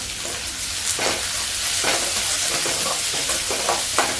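Ingredients for poori potato masala sizzle and fry in a pan as they are sautéed, a steady close hiss with soft stirring scrapes recurring about once a second.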